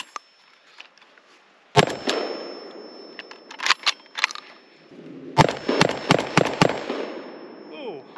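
Kalashnikov USA Komrad AK-pattern shotgun firing low brass shells, a few sharp loud reports with metallic clanks and rattles of the action, close and echoing, separated by quieter gaps.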